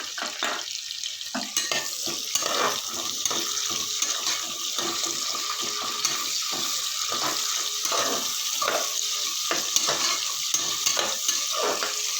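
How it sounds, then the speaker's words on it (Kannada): Two medium chopped onions with green chillies frying in oil for egg biryani, a continuous sizzle with repeated scraping stir strokes of a spoon against the pan throughout. "ಇದು ಚೆನ್ನಾಗಿ ಫ್ರೈ ಆಗಬೇಕು ಎಣ್ಣೆಯಲ್ಲಿ"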